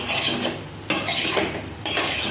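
Fried potato pieces and soya chunks stirred into spices in a pan, with two or three sudden scraping strokes over a low frying hiss, close by and without speech.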